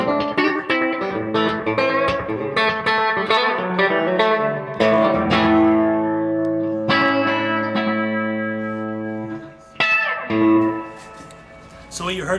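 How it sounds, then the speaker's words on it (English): Electric guitar run through a Seymour Duncan Vapor Trail analog delay pedal set to a short slapback delay, playing a busy run of plucked notes and sustained chords, each attack trailed by a quick echo. "We have the delay time really low, so you can get a quick slapback sound."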